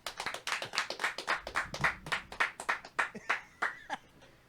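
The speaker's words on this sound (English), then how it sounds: "let's give I, Kuhn uh, a round of applause" A small group claps in a quick, uneven run of distinct hand claps, fairly close and fading toward the end, with a faint chuckle or voice underneath.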